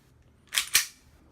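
An H&K USP Tactical CO2 gas blowback airsoft pistol gives two quick, sharp trigger clicks at reset, close and crisp in a quiet room.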